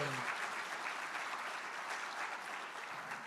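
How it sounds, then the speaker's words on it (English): Dense audience applause at an airport's annual state-of-the-airport program, a steady wash of many hands clapping that holds evenly throughout. "Let's give her a real big round of applause."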